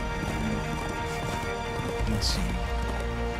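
A horse gallops in the Darksiders 2 video game, its rapid clip-clop hoofbeats running steadily under game ambience while someone briefly speaks.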